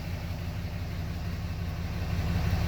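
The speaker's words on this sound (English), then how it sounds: "Engine's running." A Cummins 6.7 diesel engine idles steadily just after starting, a low, even rumble that holds at constant loudness throughout, close by and with no one speaking.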